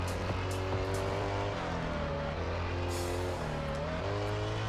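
Traffic cars drive past in the racing game Test Drive Unlimited, with steady engine drones shifting in pitch as vehicles accelerate and pass, loud and continuous with no voices.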